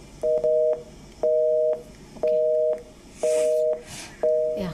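Repeated beeping of a disconnected telephone call, five evenly spaced tone bursts with short silent gaps, loud and clear, with no talking over it.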